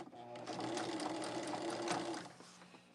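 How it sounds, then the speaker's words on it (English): A sewing machine stitches a quarter-inch seam across a quilt border, running in a fast, even mechanical whir for about two seconds before slowing to a stop, close and fairly quiet. "I'm going to take this to my machine and do a 1/4 inch all the way across"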